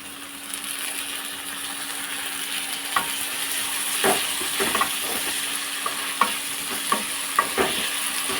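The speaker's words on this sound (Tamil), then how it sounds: "தக்காளி சேர்த்து நல்லா கிண்டி விட்டுக்கோங்க" Two large chopped tomatoes frying in a pan for a neem flower kuzhambu, a constant low sizzle broken by repeated spoon scrapes and taps against the pan as the mixture is stirred.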